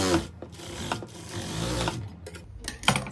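Sewing machine stitching a farshi salwar, a close, steady mechanical whirr with brief pauses and rubbing of fabric handled in between.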